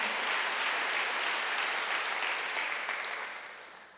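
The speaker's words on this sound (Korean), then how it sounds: "박수 하세요." Congregation applauding during a Sunday church service, a dense steady wash of many hands clapping that fades slightly toward the end, with no talk over it.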